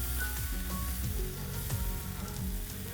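Blended gravy for tawa paneer sizzles and fries steadily on a hot tawa, a dense crackling hiss close by with light stirring and no one talking.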